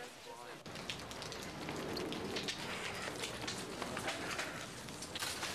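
Rain pours down in a dense, continuous hiss of drops striking surfaces, starting after a short quiet moment and staying steady and close throughout.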